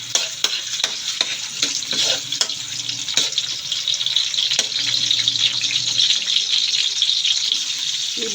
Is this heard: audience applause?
no